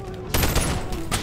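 Gunfire in the virtual reality game Bonelab, a quick volley of sharp shots that starts partway through and carries over a low game background, fairly close and loud.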